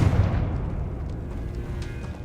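A Confringo fire spell from Hogwarts Legacy bursts in a deep, booming explosion that rumbles and fades over about two seconds, loud and close, with no talking.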